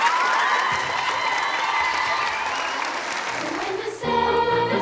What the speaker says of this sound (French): nous les anciens, on les applaudit, les plus jeunes.